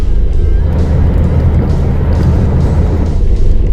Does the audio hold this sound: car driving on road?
yes